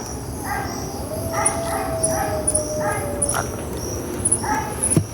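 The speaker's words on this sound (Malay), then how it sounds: "itu anjing menangis ke?" A dog whines and yips in a series of short, pitched cries in a forest at night, fairly distant, with faint background noise and no clear speech.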